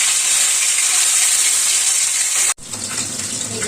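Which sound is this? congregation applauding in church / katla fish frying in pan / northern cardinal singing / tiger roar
katla fish frying in pan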